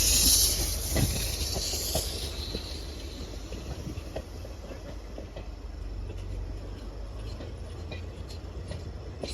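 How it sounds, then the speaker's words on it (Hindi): A train approaching, heard as a broad continuous rumble and rail clatter with a hissing high edge, rolling and fairly close, with some talking underneath. "भाई सामने से ट्रेन आ रही है"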